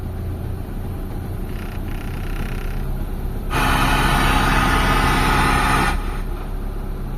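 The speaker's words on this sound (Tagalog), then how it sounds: "Pagka inikot ko yung steering wheel, tumataas yung idle niya." A Mitsubishi Lancer engine idles steadily and loud, its idle rising noticeably partway through as the steering wheel is turned, then settling back down.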